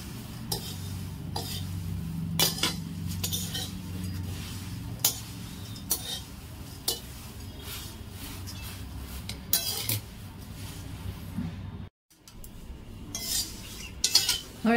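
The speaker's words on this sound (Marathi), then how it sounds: "पोहे जोवर कुरकुरीत होत नाही तोपर्यंत आपल्याला परतून घ्यायचे" A metal spoon scrapes and clinks steadily against a pan while thin poha with turmeric is stirred and roasted until crisp, a close, continuous rattle with sharper knocks and a short pause near the end.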